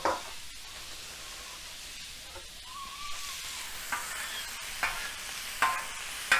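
Garlic butter sizzles on a hot grill as a steady, moderately loud hiss, with occasional sharp clicks and scrapes from a spatula near the end.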